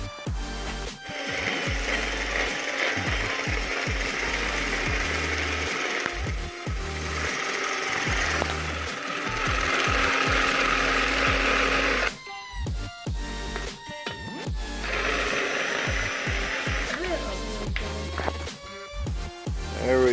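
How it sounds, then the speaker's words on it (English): A power tool notching the block of a Honda D16Y8 engine, grinding and buzzing in long ragged runs broken by brief stops and restarts, loud and close with clattering metal contact. "right now, what I'm doing is notching the block"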